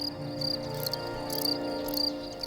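A field cricket chirps steadily in rapid trilled pulses, close and fairly loud, with no other sounds around it.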